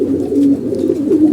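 A domestic pigeon coos close by, a low, soft, rolling coo repeating through the moment with no voices.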